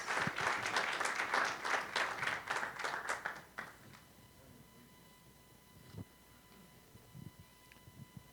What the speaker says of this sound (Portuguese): levante suas mãos e aplaudam o Senhor